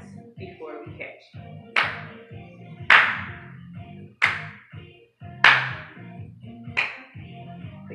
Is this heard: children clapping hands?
yes